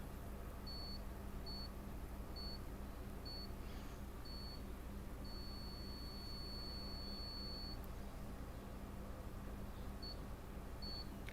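A GwInstek GDM-8341 benchtop multimeter gives a thin, faint continuity beep, a series of short repeated tones followed by one longer sustained tone, over a steady background hum.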